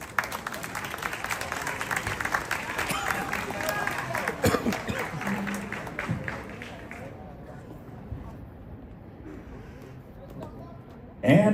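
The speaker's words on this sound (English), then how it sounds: "Please give her a round of applause." Audience applause for Miss Bolivia, a pageant contestant at the Miss International final, moderate clapping spread through a large hall that carries on for about seven seconds, then drops away to quiet room tone.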